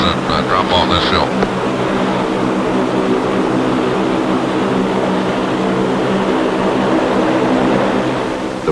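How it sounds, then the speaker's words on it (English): Propeller aircraft engines run at a steady idle on an Antarctic airfield during refuelling at a forward fuel pit, a loud, close, continuous droning hum with even tonal layers that holds unchanged for the whole stretch. "Engines must be kept running."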